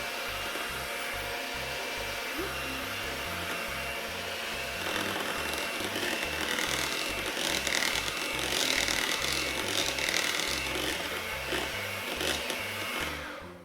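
An electric hand mixer whirs steadily through banana nut bread batter, a loud continuous motor drone close up that rises slightly in pitch and intensity midway before easing off at the end.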